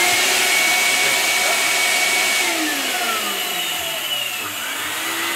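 A CamVac high filtration dust extractor runs steadily with a muffled, continuous motor whir and broadband airflow hiss, loud and close, holding level for the whole stretch with a slight dip near the end.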